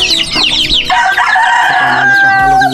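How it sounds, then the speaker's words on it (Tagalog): Turkey chicks and chickens on a backyard farm cluck and chirp continuously, with high peeping calls overlapping lower clucks and a sustained call in the middle, close and fairly loud. "mga sisi po ng pabo ito."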